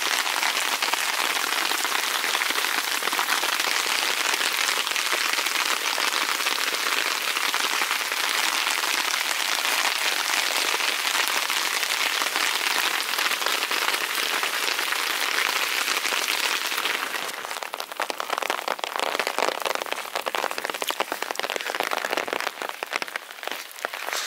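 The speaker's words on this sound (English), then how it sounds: "Well, I was looking for the rain experience. This is what I'm getting." Heavy rain pours down steadily during a thunderstorm at a lake in the Desolation Wilderness, a dense, loud hiss on surfaces that continues throughout and grows slightly patchier and lighter near the end.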